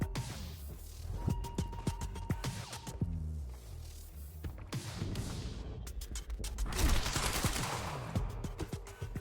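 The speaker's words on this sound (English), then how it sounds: "God, I love these types of big, heavy machine guns." Heavy machine gun fire in the video game Quantum Break: repeated rapid bursts of rattling shots with booming impacts, fairly close and continuous, with short pauses between volleys.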